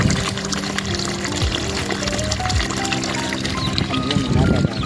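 Natural spring water pours continuously from a pipe at a temple, a steady splashing flow heard up close while people talk over it throughout.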